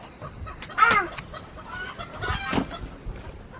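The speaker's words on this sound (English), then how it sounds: "That rooster makes an awful lot of racket." A rooster gives a short crow and chickens cluck nearby in a farmyard, with a barnyard murmur underneath; one louder burst early, another squawk a moment later.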